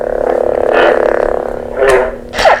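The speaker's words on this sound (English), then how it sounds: "when I ignite this one, you're going to get a blue blade. So you can hear it." A Star Wars toy lightsaber igniting its blue blade gives a loud, buzzing electronic hum with pulsing texture and two brighter swooshing surges near the end, close up with no talk.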